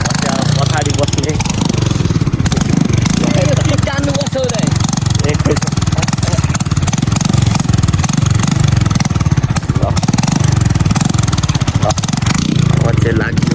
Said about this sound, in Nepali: आज चाहिँ छोटो डनले बाइक कुदाउने अरे